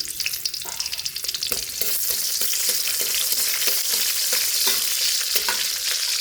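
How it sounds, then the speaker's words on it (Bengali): A spice tempering sizzles in hot oil in a wok, with a bright steady crackle and repeated light scraping strokes as it is stirred. "এখন আমি বাগার দেব, যে এখানটা কড়াই দিয়ে দিলাম"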